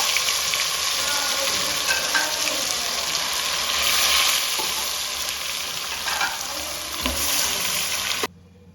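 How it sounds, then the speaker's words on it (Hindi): Steady, close sizzling of crushed garlic and ginger frying in hot oil for a tempering, a dense continuous crackle that cuts off abruptly near the end. "अब हम इसको तड़का लगाएंगे"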